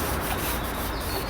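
Steady soft scrubbing by hand as polish is worked into an Audi TT Mk1 engine rocker cover, a close, continuous rubbing texture with no pauses or voices.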